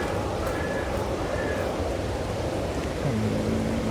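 Rain falls in Farming Simulator 22 as a steady, even wash of noise that runs the whole stretch without pause, with faint tonal game sounds drifting over it.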